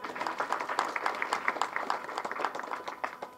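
An audience at a film trailer launch event claps for the director, with steady, moderately loud applause of many hands that tapers slightly toward the end.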